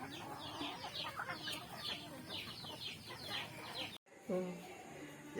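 Native chickens cluck in a lively, busy run, their short repeated calls overlapping loudly through the span with a brief pause near the end before more clucking resumes.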